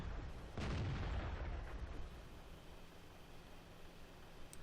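A tank's main gun fires once in World of Tanks, a heavy close boom with a rumbling tail that decays over a couple of seconds into low ambient noise.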